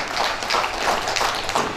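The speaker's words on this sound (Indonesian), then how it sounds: "Kita tepuk tangan dulu Ibu Bupati ini." An audience at a regional government building inauguration claps in a dense, steady round of applause for the regent, brief and fairly loud, with no talk over it.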